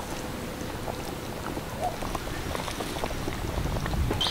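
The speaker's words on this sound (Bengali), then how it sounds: "এবার গ্রেভিটাকে আরও একবার 3 থেকে 4 মিনিট মতো ফুটিয়ে নেব" Soybean ball gravy bubbling in a pan, a steady soft patter of small pops and bursts running close and fairly quiet throughout, with no talk over it.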